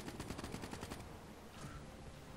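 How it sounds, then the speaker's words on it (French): Rapid gunfire in the Black Ops 3 shooter, a quick run of evenly spaced shots for about a second, then a fainter single report, fairly distant and muffled. "Ah putain je prends des balles de derrière. Un putain de sniper de derrière."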